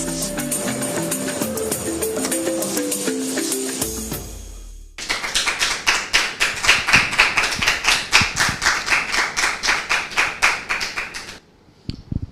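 Music plays for the first few seconds, then a church congregation claps together in a steady, rhythmic beat. The clapping stays loud and close before stopping abruptly near the end.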